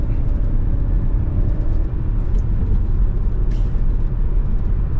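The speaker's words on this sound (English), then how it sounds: "I'm going to reduce to second gear and give it a little bit" A Vauxhall Grandland X pulling in second gear along a twisty, bumpy road, a dense low engine and road rumble filling the cabin with small knocks and thumps from the uneven surface.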